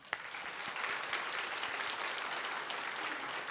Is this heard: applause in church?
yes